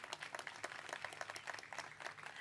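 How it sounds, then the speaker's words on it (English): Scattered audience clapping at an outdoor ribbon-cutting ceremony for a cemetery burial ground, faint and steady with many hands applauding together for a couple of seconds. "Yeah, you can clap for him."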